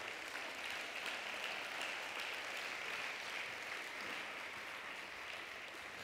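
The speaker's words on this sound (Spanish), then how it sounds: "Dar un aplauso a Jesús." Continuous applause from a church congregation, a dense steady patter of clapping held at an even, moderate level for several seconds.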